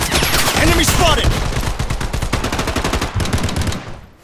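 Rapid gunfire from the Project Blood Strike mobile shooter, dense automatic bursts with sharp repeated cracks for about four seconds, loud and close, fading out at the end; game voice callouts sound underneath.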